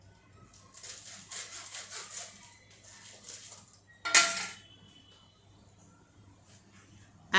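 A knife slices through a fried cheese-filled bread potato ball, giving a sharp crunchy scrape near the middle that stands out against quieter kitchen clatter, with a brief clink at the very end.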